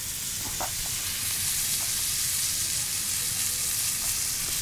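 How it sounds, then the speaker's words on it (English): Butter and smashed garlic cloves sizzling in a hot pan while searing steak, a dense continuous frying hiss with a few faint pops and clicks. "take some butter, get it into the pan, a couple cloves of garlic, smash it"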